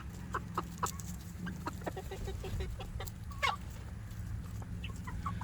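Chickens cluck in a coop, a scattered series of short clucks and chirps over a steady low background hum, some near, some softer, with one louder squawk midway.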